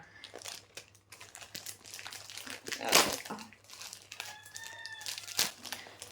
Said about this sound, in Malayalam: കോഴിയൊക്കെ കരയുന്നുണ്ട് അവിടെ